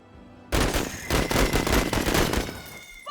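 Gunfire in the tactical video game Menace: after a short quiet lead-in, loud, dense bursts of shots and rattling fire erupt and continue for several seconds, with echoing impacts layered over one another.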